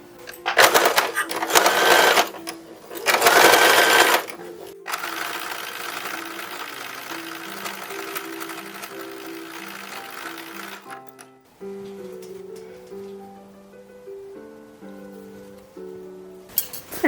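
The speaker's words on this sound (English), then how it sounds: "I will sew on the waistband" Sewing machine stitching the waistband onto an 1850s–1860s style cotton print dress, loud fast bursts at first, then a long steady run with a pulsing mechanical hum and shifting tones.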